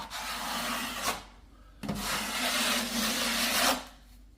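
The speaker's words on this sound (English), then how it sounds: "You get yourself a 10-inch, 12-inch knife and just simply run it down." A 10- to 12-inch drywall knife drawn down over drying five-minute joint compound gives two long, close, steady rasping scrapes with a short pause between them.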